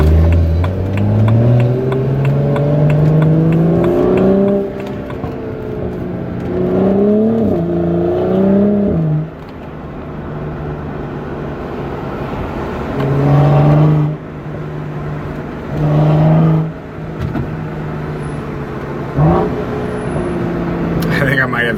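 BMW 135i with an MHD burble exhaust tune driving in traffic, its engine rising and falling through gears with rasping revs and deep off-throttle drones, heard loud and close from inside the car with faint pops.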